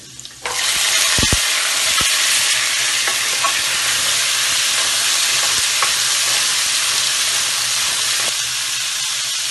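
Carrots dropped into cumin frying in a pan, starting with a sudden loud sizzle after a brief quiet moment, then a steady, dense hiss of frying with occasional stirring clicks and no talk.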